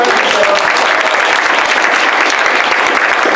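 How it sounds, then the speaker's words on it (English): An audience at an improv comedy show gives the performers a round of applause, a loud, dense, continuous patter of many hands clapping throughout. "Give them a nice round of applause."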